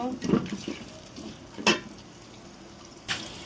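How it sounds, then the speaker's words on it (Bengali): Onions fry in oil with cloves, cardamom and cinnamon for a country chicken curry, making a soft background sizzle broken by a few sharp scrapes and clatters of a utensil against the pan. "দেব লং এলাচ দারচিনি পেঁয়াজটা ভালো করে ভেজে দেব"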